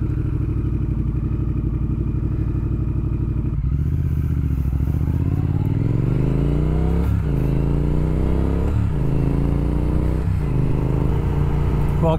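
Triumph Speed Twin motorcycle fitted with Ohlins rear shocks: idling burble, then a close engine pulling away with rising revs and several upshifts as the ride gets going.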